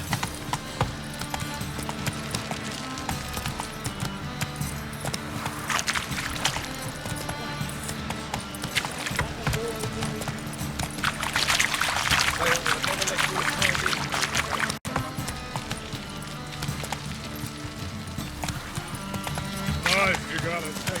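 Roach, the horse in The Witcher 3: Wild Hunt, gallops with steady rhythmic hoofbeats under loud game music and voices that run through the whole stretch.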